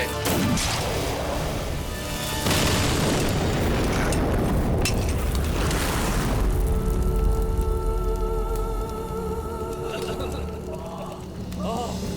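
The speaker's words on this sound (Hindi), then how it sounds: "देखो वहां बम है।" Loud booming blast with crashing debris in a wartime battle scene, a heavy rumbling roar that fills the clip and rolls on with continuing crashes, while music and voices run underneath.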